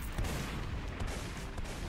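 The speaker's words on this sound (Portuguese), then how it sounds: "não dá tiro de RPG em mim, hein, por favor" RPG rocket fire in a Roblox zombie-horde game, a continuous dense barrage of booming blasts and gunfire-like bursts, loud and sustained with no talk.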